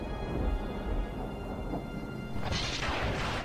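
Heavy rain pours in a dense, continuous hiss, with a low rumble underneath and a brighter wash of rainfall swelling near the end, steady and close with no voices.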